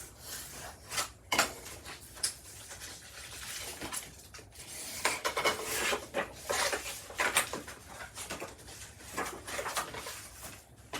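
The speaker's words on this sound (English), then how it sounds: "So I am just going to fold and burnish" Paper envelope sides being folded and burnished by hand during a craft project, giving soft rubbing and scraping strokes with crisp crinkles in an irregular rhythm, close up and fairly quiet, with no talking.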